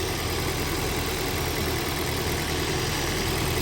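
An electric AC compressor runs steadily with a constant droning hum and broadband hiss after refrigerant has been added, with no talk over it.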